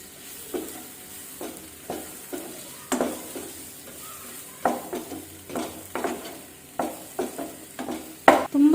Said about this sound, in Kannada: ಅದಕ್ಕೆ ಈ ಬಾಳೆಹಣ್ಣು ಹಾಕ್ಕೊಂಡು ಸ್ವಲ್ಪ ಫ್ರೈ ಮಾಡ್ಕೋಬೇಕು.